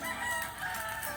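Rooster crowing among chickens on a farm, a sustained call heard at moderate distance over steady background noise, with no talk.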